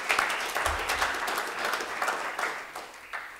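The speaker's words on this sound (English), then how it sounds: "So let's give them a round of applause" Audience applause at a corporate presentation honoring a company's partners, a moderate burst of many hands clapping with uneven peaks that slowly thins out, no voices over it.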